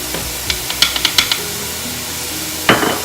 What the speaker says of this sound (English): I just stir it in my soup